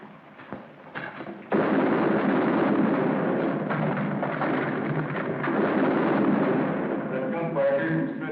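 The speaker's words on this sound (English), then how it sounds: "That gunfire came from straight ahead." Gunfire in a 1951 Civil War-era battle scene erupts as a dense, loud barrage of booming shots and rumbling blasts, continuous after a quieter start.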